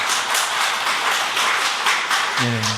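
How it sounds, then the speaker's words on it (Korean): A church congregation offers encouraging applause for its evangelism team during a Korean service, a brief, even patter of clapping that fades as a voice begins speaking at the end. "우리 추운 날씨에도 정성 모아주신 전도팀을 위해 격려의 박수 한번 부탁드리면 감사드리겠습니다"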